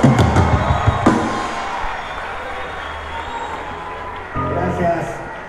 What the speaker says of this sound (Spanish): aplauso al amigo Otto